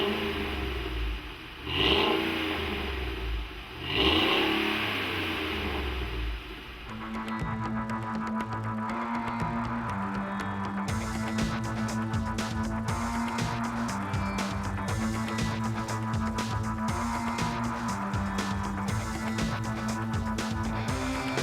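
A 2009 Ford F-150 runs on its stock exhaust. Two revving swells come early, then a steady, close idle rumble with light mechanical clatter.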